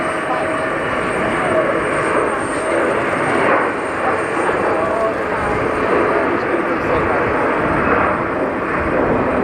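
A jet airliner going around over runway 22 right at JFK airport, a steady loud broadband engine roar with rising and falling whine, continuous throughout at moderate distance, with a voice talking over it.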